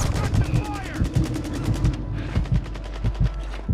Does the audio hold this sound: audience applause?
no